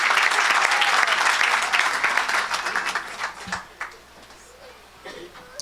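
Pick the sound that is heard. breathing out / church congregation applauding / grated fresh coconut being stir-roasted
church congregation applauding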